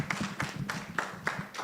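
A small audience at the Open Science Forum 2025 gives Professor Mwanzu a brief round of applause, a few distinct claps in a quick, regular rhythm, fairly faint and with no talking.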